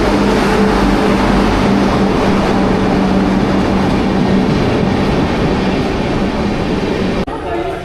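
A long-distance train bound for Delhi from Thrissur rumbles at a station platform, a loud, steady low roar with rail clatter throughout, before the noise drops off abruptly near the end.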